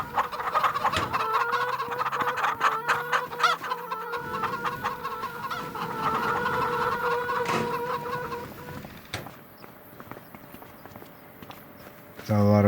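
A flock of chickens in Farming Simulator 25 clucks and chatters densely, with footsteps and clattering alongside, a steady mass of bird calls that thins out toward the end before a sudden loud burst.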